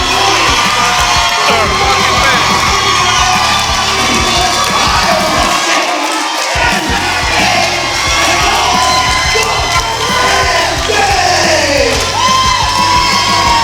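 Red Bluff wrestling fans at a PCW show roar and cheer continuously as a crowd, with whoops, yells and children shouting throughout, loud and dense, briefly dipping for a moment midway.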